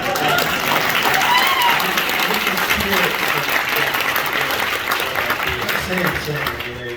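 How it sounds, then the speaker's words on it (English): Applause from a convention panel audience at Texas Frightmare fills the room as steady, dense clapping and crowd noise that holds loudly throughout, with some voices mixed in. "No, that's an applause."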